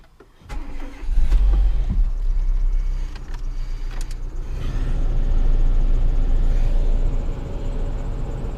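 A car engine cranks and catches on an icy morning, then settles into a steady, close, rumbling run that swells a little louder partway through, with no talk over it.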